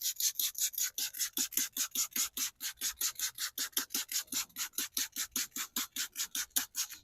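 A drill-powered brush scrubs carpet worked with foaming citrus cleaner, making rapid, regular back-and-forth rasping strokes, about four per second, close and moderately loud with no talking.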